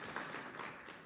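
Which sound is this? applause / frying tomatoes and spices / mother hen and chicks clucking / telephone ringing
applause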